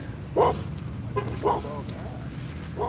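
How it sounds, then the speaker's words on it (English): A dog barks in short, sharp bursts, three clear yelps spread over a few seconds, fairly close, with people talking around it. "It's a dog."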